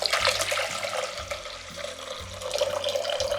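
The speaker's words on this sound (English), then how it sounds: "So just pour the bottle into the pot." Wine is poured from a bottle into a pot holding a cinnamon stick, cardamom pods, dried cranberries, ginger, cloves, pimento and star anise, a steady close liquid splashing and gurgling that runs for several seconds alongside a repeating low tone.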